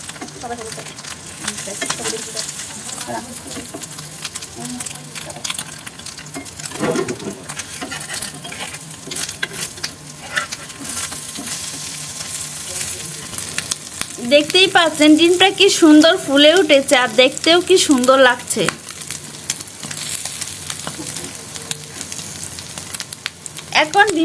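Egg sizzling in a frying pan after it is flipped, for a potato curry with eggs, a steady close crackle with scraping and stirring, and a brief stretch of louder spatter midway, no talk.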